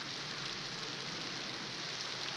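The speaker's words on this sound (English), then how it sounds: "Is there rain coming in there?" Rain falls in a steady, even hiss of dense drops, constant in loudness throughout, with no voices.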